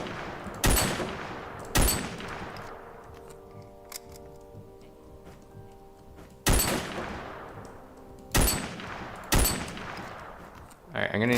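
Shotgun blasts in a video game firefight, five loud booming shots spaced irregularly with ringing tails and faint mechanical clicks between them.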